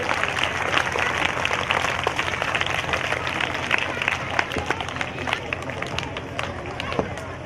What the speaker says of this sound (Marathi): सर्व विद्यार्थ्यांनी जोरदार टाळ्या वाजून पुन्हा एकदा आलेल्या सर्व पाहुण्यांचे स्वागत करायचे आहे